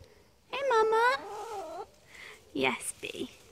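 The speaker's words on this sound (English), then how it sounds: "That is the noise of a chicken who wants to go outside." A farm chicken that wants to be let outside gives a close, drawn-out warbling squawk, followed by shorter, choppy calls, with a voice nearby.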